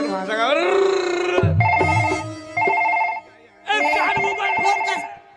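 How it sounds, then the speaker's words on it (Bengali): A mobile phone ringing in a comic Bengali stage skit, a bright repeating electronic ringtone melody in bursts with short pauses, loud and close, with voices around it. "ফোন কার বাজছে?"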